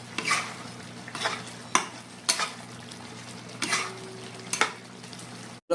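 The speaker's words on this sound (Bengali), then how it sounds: "অল্প নাড়িয়ে দেবো।" A spoon stirs a vegetarian soybean curry finished with ghee in a pan, scraping in several distinct strokes spaced a second or so apart over a steady low sizzle, close and fairly loud.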